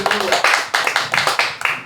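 Crowd applause at a Korean church prayer rally and press conference marking the July 27 UN Forces participation day, heard as a steady run of rhythmic claps, about four per second, fairly close and even.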